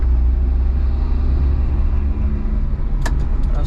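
A Suzuki Jimny driving around the block, its engine a steady, close low rumble throughout, with a brief click or rattle near the end.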